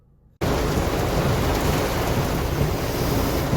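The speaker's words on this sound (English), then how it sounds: "looks like a storm's a brewing" Heavy rain pours steadily during a thunderstorm, a dense continuous roar that starts abruptly after a moment of quiet and stays loud throughout.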